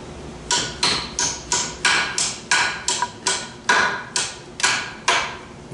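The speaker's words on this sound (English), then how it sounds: "you take the ball peen hammer and you can knock this all the way flush" A ball peen hammer knocks a part flush on a 4T65E automatic transmission in a steady run of about fifteen sharp, ringing metal knocks, evenly spaced and close up.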